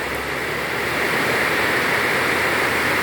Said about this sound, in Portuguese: Então um toró d'água